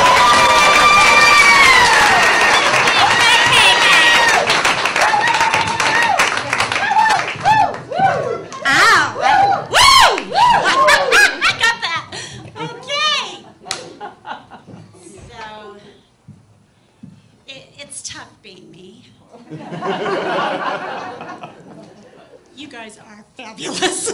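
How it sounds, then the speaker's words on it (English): A comedy club audience at a stand-up showcase claps and cheers for a comedian, loud and dense at first, then thinning into scattered claps and laughter before a voice resumes talking. "Nice round of applause."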